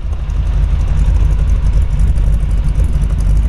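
A 1948 Ford Super Deluxe Woody Wagon's H&H flathead V8 chugs loudly and continuously at close range, a rough low-pitched rumble with no speech over it.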